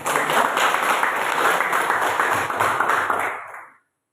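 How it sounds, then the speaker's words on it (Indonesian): A school class claps hands together during a biology lesson, a dense, steady burst of many hands lasting a few seconds before stopping abruptly. "Baik, kita tepuk tangan dulu."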